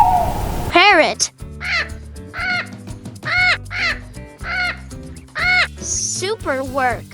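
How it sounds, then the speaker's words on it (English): A parrot gives a rapid series of harsh, squawking calls, each a short rising-and-falling screech, loud and close over light background music. "Parrot."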